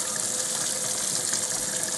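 Steady stream of running tap water pours over a metal ladle being rinsed at a kitchen sink while making beef stock, a constant broad splashing rush with no voices.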